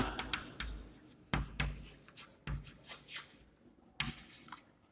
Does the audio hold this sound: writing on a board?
yes